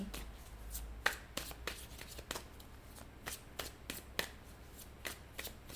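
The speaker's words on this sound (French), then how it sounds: "Je vais sortir une carte pour l'énergie actuelle et une carte pour avenir" Tarot cards are shuffled and drawn by hand, giving a string of crisp, soft riffles and snaps at an irregular pace, close and quiet, with no voices.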